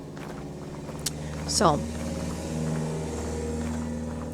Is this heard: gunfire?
no